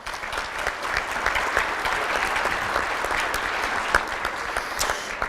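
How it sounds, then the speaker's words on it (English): Round of applause at a 2017 Hall of Fame ceremony, sustained even clapping from a seated crowd, fairly close and continuous with no talking. "Please give Chris a round of applause."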